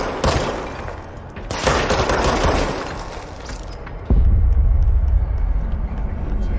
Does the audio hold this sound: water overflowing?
no